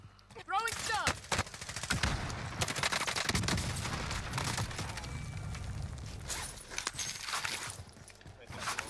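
Rapid bursts of Kilo 141 assault rifle fire crack through a Call of Duty match, sustained loud volleys with scattered single shots and footsteps, mixed under game sounds.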